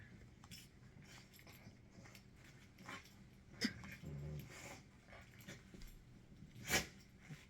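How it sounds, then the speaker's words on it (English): Excited dog indoors whimpering, panting and snuffling in uneven bursts, with a couple of sharper yelps standing out, all faint and close in a quiet room. "Pardon the interlude while my dog goes nuts."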